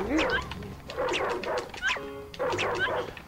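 Several sharp barks from a dog in the Ed, Edd n Eddy video game, repeated in quick bursts with short yips, loud and close, over a low game background.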